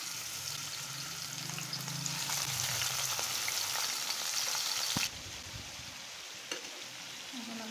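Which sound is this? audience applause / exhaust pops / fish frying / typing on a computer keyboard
fish frying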